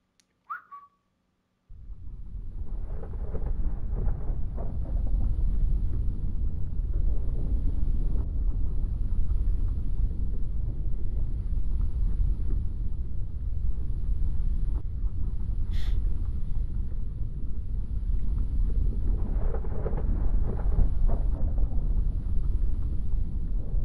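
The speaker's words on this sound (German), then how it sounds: "Auf jeden Fall schon mal schlechtes Wetter. Es regnet, es donnert." Rain and thunder in the video game Shattered: Tale of the Forgotten King: a steady, loud windy rush of storm noise that continues throughout with no talking, after a short near-silent start.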